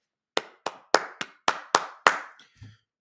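Seven sharp, separate claps in a quick, even rhythm from a small group of students or one person, close and crisp against silence, with a faint thump after them.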